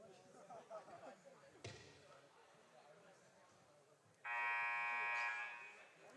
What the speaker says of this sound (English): As the buzzer rings, so both teams will be back on the floor very shortly.